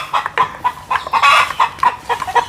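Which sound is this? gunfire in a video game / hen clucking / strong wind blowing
hen clucking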